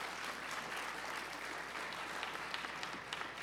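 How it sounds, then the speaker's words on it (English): A conference audience applauds, dense, even clapping from a crowd filling the room for a few seconds at a steady level. "So there's the round of applause."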